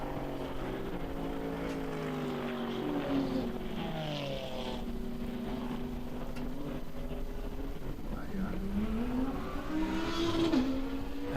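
Touring race cars from an endurance race at BalatonPark circuit howl past, engine notes rising and falling with gear changes, several cars overlapping at mid distance and moderately loud, with a commentator's voice faintly underneath.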